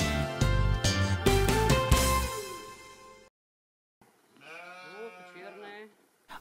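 Sheep bleating on a farm during lambing season, a few wavering bleats heard close after a stretch of loud music and a short silence.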